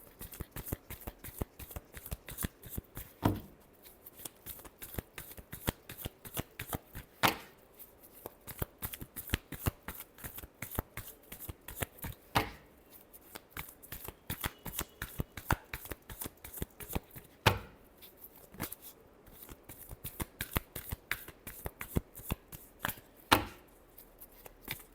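A tarot deck is shuffled by hand over and over, producing rapid, crisp riffling and slapping card sounds in a steady patter with occasional louder snaps, close and alone.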